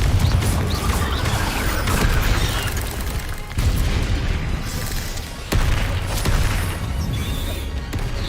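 Repeated booming fire-spell blasts from the Hogwarts Legacy video game, loud and dense, with rumbling bursts and crashes running almost continuously and no talk.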